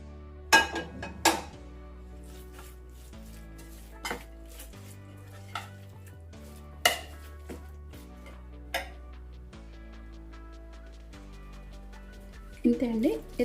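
Lacha mango pickle stirred together with spices and oil in a pot, scattered clinks and scrapes of a spoon against metal at irregular intervals, close by, with someone speaking throughout.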